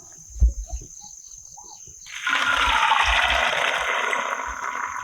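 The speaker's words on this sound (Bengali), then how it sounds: "পাঁচ মিনিট মতো চাউটাকে সিদ্ধ করে নিয়েছি এবার আমি জল ছাড়িয়ে নেবো" Water from boiled chow noodles pours out steadily after a couple of soft knocks, a continuous close splashing rush that holds for about three seconds, with no talking.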